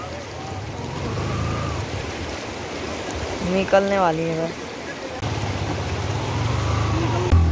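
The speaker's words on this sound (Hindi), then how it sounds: "शॉर्ट रास्ते के चक्कर में हमने नदी पार की" A car fords a deep river, rushing water and engine rumble filling the scene, with a rising whine of effort midway and a person speaking briefly.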